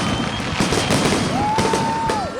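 Fireworks going off at night, a dense crackling barrage with whistling rockets rising and falling in pitch, steady and fairly loud from a middle distance.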